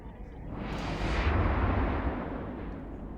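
Missile explosions in space combat in Eve Online, one deep rumbling blast that swells and slowly fades over a few seconds.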